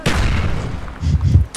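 Rocket launcher explosions in the Call of Duty Black Ops video game, a dense sustained boom with deep low-end rumble lasting throughout, swelling again near the end, loud and close.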